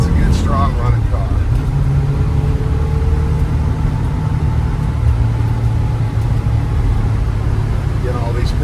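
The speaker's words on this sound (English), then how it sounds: "it's a good, strong running car" A 1967 Chevrolet Nova engine idles steadily with a low, even rumble that stays close and constant throughout, with no talking over it.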